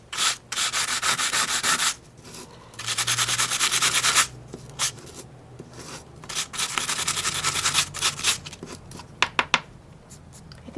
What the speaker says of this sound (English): So the next step is to just lightly sand it.